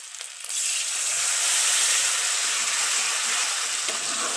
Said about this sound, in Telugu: ఇప్పుడు పసుపు చింతపండు పులుసు పోసుకొని కొద్దిసేపు ఉల్లిగడ్డలో మగ్గనిద్దాం